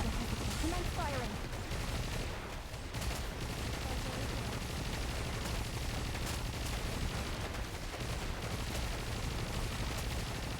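Gunfire in Genshin Impact, a dense, continuous barrage of shots and blasts, steady and fairly faint under busy game sound throughout.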